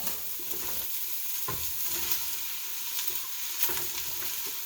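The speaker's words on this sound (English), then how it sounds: "And then I'm going to make sure I keep stirring that in. Don't want the garlic to burn." Garlic frying in a pan for chili, being stirred steadily: a continuous bright sizzle with occasional scraping strokes of the utensil, close and even throughout.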